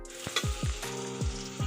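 Tomatoes sizzling as they fry in a pan, with a steady crackle broken by several rhythmic scraping strokes of a stirring spoon, close and clear with no voices.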